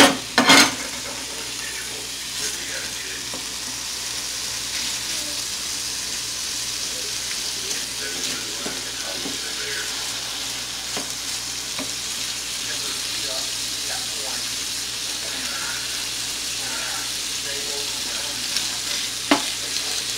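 Sausage fries in olive oil in a pan, a continuous close sizzle and crackle with occasional sharp pops and a utensil clink, the hiss staying steady throughout.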